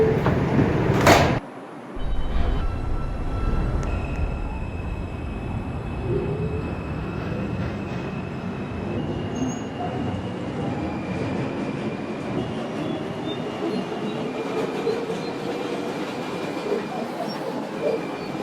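A Bronx-bound New York subway 4 train rumbles along the track with a whining motor tone that rises and shifts, after a sharp burst near the start, heard from inside the car.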